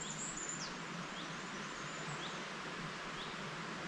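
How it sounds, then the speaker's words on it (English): Midges buzzing near a stream, with birds calling, a constant hiss of running water filling the scene while thin high chirps and whistles come and go, fairly distant and unobtrusive. "The stream, the birds, and the midges."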